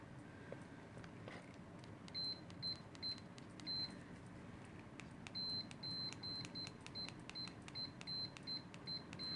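An EZ DM-333 vintage multimeter beeps during continuity tests with Probe Master probes: a series of short, fairly loud high beeps in irregular clusters over a steady low hum.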